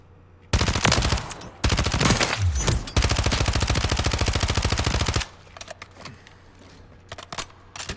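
A video game SMG fires on a practice firing range in a long, rapid continuous burst of loud, evenly spaced shots lasting several seconds, then stops abruptly, leaving quieter clicks and faint handling noises.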